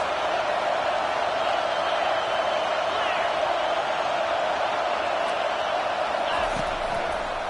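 Steady roar of a football stadium crowd during a USC Trojans versus Tennessee game on a first-and-goal play, a dense, constant wash of distant voices that stays loud and even throughout with no distinct words.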